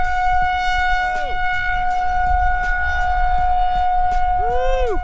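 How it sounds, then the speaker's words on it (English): Weekly test of a tornado warning siren in Indianapolis sounds nearby as a loud, sustained wail with pulsing tones and two sweeping rises and falls, steady and continuous throughout. "11 o'clock on a Friday, and that's usually when they test these sirens. There's one right behind me."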